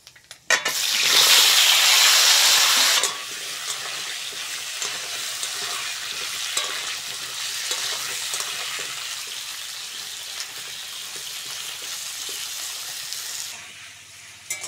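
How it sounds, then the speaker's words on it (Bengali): Kohlrabi and potato pieces dropped into hot oil seasoned with five-spice tempering, a loud burst of sizzling that settles into steady frying with stirring clatter, then fades near the end. "ওলকপি আর আলুটা ভালো করে ভেজে নেবো।"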